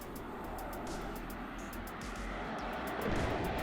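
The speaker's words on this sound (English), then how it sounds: "HE bomber coming in here, going for one Jaeger squad." HE bomber aircraft flying in during a WARNO real-time strategy match, a steady engine drone with a broad rushing noise under faint clicks that swells slightly near the end, with no talking.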